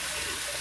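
Running water from a tap splashes over a synthetic shaving brush as it is rinsed, a short, steady, close wash of water with no talking.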